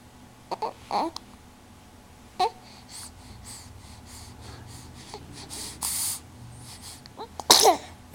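A baby gives several small sneezes and snorts, a few soft bursts spread apart and then a sharper, louder sneeze near the end, close and quiet otherwise.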